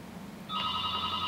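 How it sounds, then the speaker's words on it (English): Telephone bell ringing in the background of an office at a law firm, a steady electronic trill that starts partway through and continues to the end over low room noise. "that's the phone in the background."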